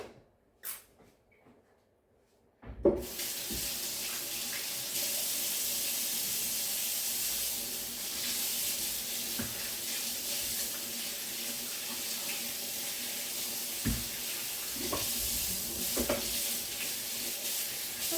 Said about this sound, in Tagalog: syempre huhugasan muna natin ang ating mga fruits